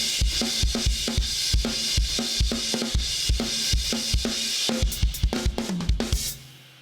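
A full drum kit plays the driving intro groove, with punchy kick and snare hits under washy cymbals, loud and close, ending on a crash.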